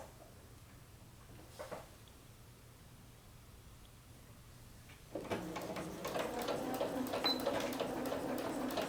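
After a few seconds of quiet room tone, a sewing machine starts up and runs steadily, sewing a seam on the bodice of a McCall's 6696 dress, close and continuous to the end.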